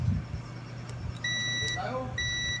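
A continuity tester's buzzer with a weak battery gives a few thin, faint beeps, some brief, against a low electrical hum, while someone speaks quietly.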